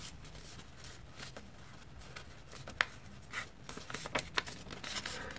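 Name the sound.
folding paper to make a paper airplane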